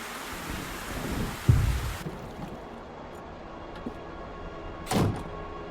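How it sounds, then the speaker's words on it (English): Heavy rain hisses steadily, broken by two short, booming thunder cracks close by, one early and one near the end, with no talking. "It's raining cats and dogs."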